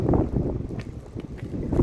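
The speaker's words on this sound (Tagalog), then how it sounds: "Mahangin, mahangin." Wind buffets a microphone outdoors in a steady low rumble with gusty swells, close and fairly loud, with no talking over it.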